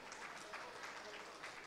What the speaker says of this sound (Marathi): टाळ्या मिळणार, टाळ्या टाळ्या. बायका वाजवत आहेत, पुरुषने वाजवत आहेत